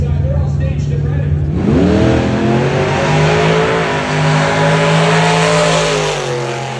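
A 1955 Chevy and a 1940 Willys drag racing cars launch, their loud engines roaring and revving hard, the pitch climbing steeply, then holding a sustained high whine close by.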